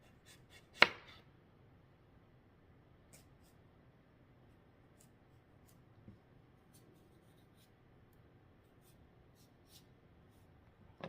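A knife slicing cucumbers for dill pickles, with one distinct chop near the start, a softer cut midway and another at the end, separated by long quiet stretches.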